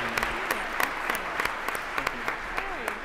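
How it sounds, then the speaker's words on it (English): Conference audience applause after the first set, with a voice talking over steady, moderate clapping and sharp individual claps standing out at regular intervals. "How about a round of applause for our first set?"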